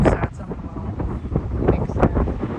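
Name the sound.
strong wind blowing into the microphone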